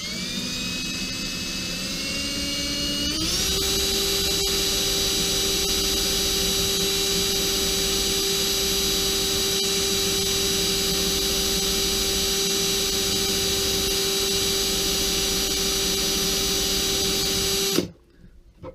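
Homemade sharpening rig grinding an axe blade with marker and compound on the edge, a steady high motor whine that spins up after a few seconds and holds with a gritty grinding texture, close and loud, then cutting off abruptly near the end.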